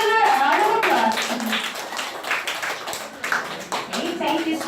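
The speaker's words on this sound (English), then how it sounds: "Let's give her a round of applause." An audience at a school class debate claps, with a fairly loud, uneven patter of hands that dips slightly midway and stays under a few voices.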